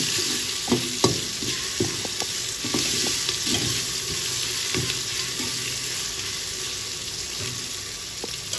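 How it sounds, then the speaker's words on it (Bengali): Garlic and ginger paste frying in a pan for a simple khichuri, a steady close sizzle with scattered light scrapes and taps of a spoon stirring, no talking. "রসুন বাটা আর একটু আদা বাটা দেবো। ভালো করে এটা একটু ভেজে নেবো"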